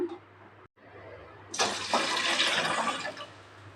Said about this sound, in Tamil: அதில் அஞ்சு கப்பு தண்ணி ஊற்றிக்கலாங்க